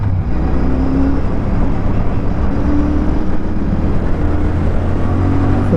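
A 2024 Royal Enfield Shotgun 650 twin, a bobber-style motorcycle, accelerating through its gears. A loud, steady engine drone and road roar fill the whole stretch close up, with no break and no voices.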